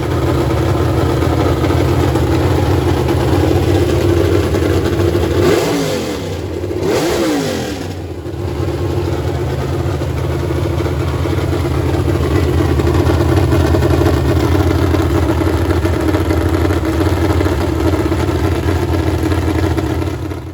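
A freshly built Ford Boss 302 V8 runs in steadily and loud, a continuous close engine drone with two brief dips in pitch partway through as the throttle shifts.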